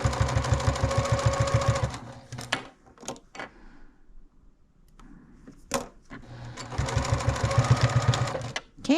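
A sewing machine stitches a fabric project bag in two rapid rhythmic runs at the start and end, close and loud, with quiet handling clicks and taps in the pause between.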